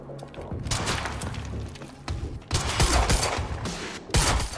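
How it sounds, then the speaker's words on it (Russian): Gunfire from Monarch soldiers in the Quantum Break video game crackles in loud, dense bursts of rapid shots with brief gaps between volleys. "Какого дьявола они в нас стреляют?"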